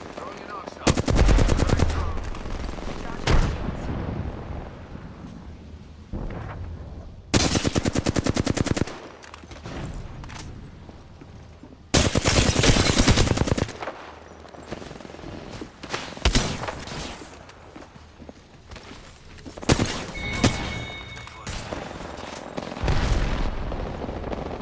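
Sustained automatic gunfire in the battle royale game Apex Legends, with loud rapid bursts from several weapons at once, broken by short pauses and sharp single shots; a voice talks faintly in between.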